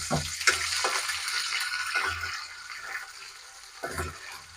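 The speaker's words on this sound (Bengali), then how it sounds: "তারপরে আমি দিয়ে দিচ্ছি 2 টুকরো আদা, মানে 1 চামচের মতন, আর রসুন 1 চামচের মতন দিয়ে দিচ্ছি" Ginger and garlic dropped into hot oil in a pan, a broad steady sizzle with a few soft knocks, close and continuous, slowly easing off.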